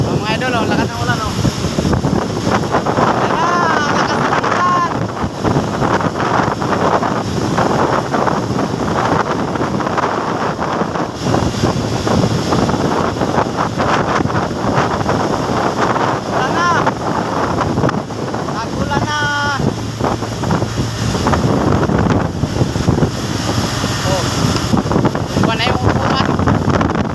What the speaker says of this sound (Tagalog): Mga idol, oh, lakas ng ulan oh.